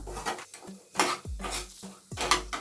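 Metal cookware clanks and scrapes several times, a pot for sambar tempering being set down and shifted on a stove, with sharp clattering bursts between quieter moments.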